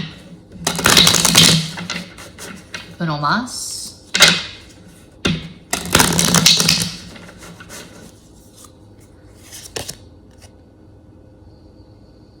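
Several bursts of a tarot deck being shuffled and riffled hard, loud and close, separated by pauses, with a few brief spoken words between them.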